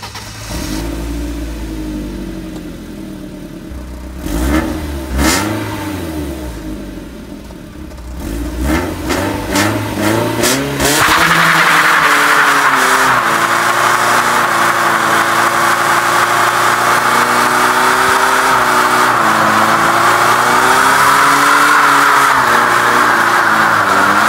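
A drift car engine idles with low rumbling, then blips and revs in short bursts before settling into a loud, sustained high-rev whine that holds steady for the rest of the clip, close to the car and without talk.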